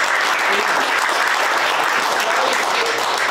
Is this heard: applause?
yes